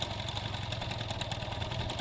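A Honda Dio scooter's small engine idles at minimum revs with a steady, even putter, heard close and alone for a short stretch.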